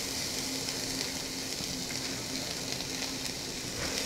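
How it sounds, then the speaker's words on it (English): Diced onion sautés in olive oil in a pan, giving a steady, even sizzle with a dense crackling hiss that holds throughout, close and alone with no talking. "You know something good is cooking when the onions start sizzling"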